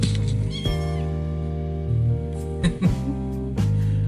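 A house cat meows loudly and close by in a couple of drawn-out, tonal calls over steady background game music, with a brief rustle near the end.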